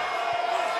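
Crowd cheering and roaring in a wrestling video game during a Nia Jax match, a steady broad wash of arena noise throughout with no clear individual voices.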